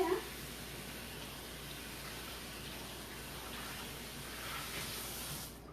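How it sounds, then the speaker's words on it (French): Canned beans being rinsed under running water at a kitchen sink, a soft steady faucet stream that runs continuously, faint and unbroken. "je vais rincer le tout à l'évier"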